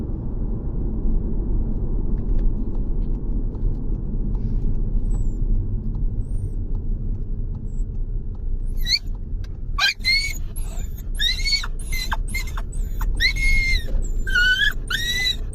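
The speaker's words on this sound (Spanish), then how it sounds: "Cuando va en el coche, jadea, llora y vocaliza en los viajes." Golfo, an anxious dog riding in a car, whines in several high, wavering cries in the latter half, close and clear over a steady low rumble from the moving car.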